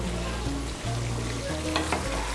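Cauliflower curry being stirred in a hot pan over raised heat, with a steady sizzle and frying hiss, a low rumble underneath and a few scraping strokes of the spoon against the pan.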